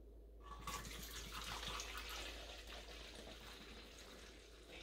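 Homemade non-toxic dish soap pouring into a bottle, a steady close liquid stream that starts after a brief quiet moment and runs continuously to the end.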